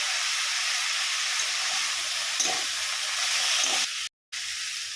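Cauliflower, potato, carrot, beans, peas and green chilli sizzle in a hot pan for a vegetable paratha filling, giving a constant close hiss with a couple of brief louder flares and a momentary cut near the end.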